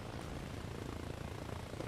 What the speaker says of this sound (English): You should hear the chopper now